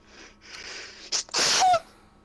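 A single loud, abrupt sneeze bursts out after a short inhaled build-up, close and alone in a quiet room.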